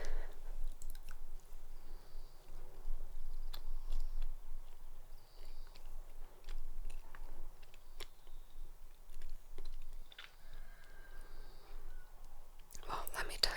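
Cheese chewed softly up close alongside a glass of Lo Zoccolaio Langhe Rosso 2015 wine, quiet wet mastication and small bites in an intimate, hushed setting with faint whispering.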